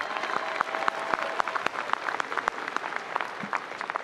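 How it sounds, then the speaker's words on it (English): Graduation ceremony audience at The Colony High School applauding, a dense patter of many hands clapping steadily for about four seconds, with sharper individual claps standing out from the crowd. "Let's give them a round of applause"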